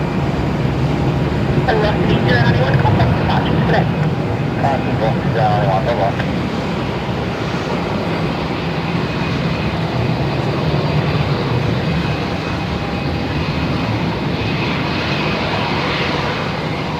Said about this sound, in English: The Air New Zealand 777 has just been cleared to land on runway 34, coming in from Auckland